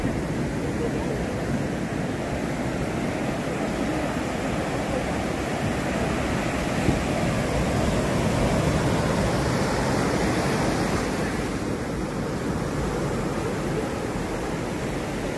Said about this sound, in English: And this is the sea, the Indian Ocean here in Mirissa.